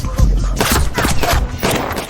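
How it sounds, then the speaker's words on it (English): A round of gunfire erupts in a dense, loud burst of overlapping shots and booms, fired in rapid clusters with short gaps, close and harsh with no talking. "Shortly after, another round of gunfire erupted."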